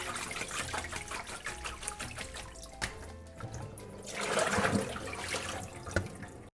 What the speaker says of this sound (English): I'm just gonna rinse and drain a couple more times